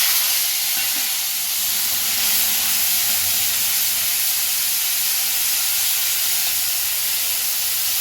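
Fenugreek seeds temper in hot oil in a kadhai, giving a steady, loud hiss and sizzle that holds evenly throughout with no talking.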